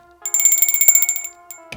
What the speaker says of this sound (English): make sure you ring that notification bell